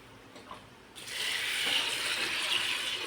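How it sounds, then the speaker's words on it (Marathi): Water gushes steadily into a container holding sago pearls being washed, beginning suddenly after a quiet moment and carrying on as a continuous close pouring rush. "आता यामध्ये आपण पाणी टाकून घेऊ आणि"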